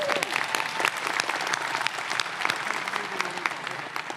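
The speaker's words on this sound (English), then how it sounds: "Don't clap for yourselves." A convention crowd at an Awesome Con Star Trek panel with George Takei breaks into loud, dense applause, sustained throughout with scattered sharp claps and a few faint voices in the mix.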